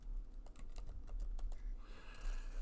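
Keys clatter on a Mac computer keyboard as a file name is typed in an editor, a quick uneven run of close, crisp taps with no one speaking.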